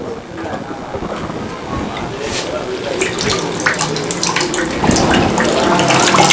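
Water gushes from a tap through an instant electric geyser water heater, a steady splashing rush that grows louder and fuller over several seconds, with a voice speaking over it.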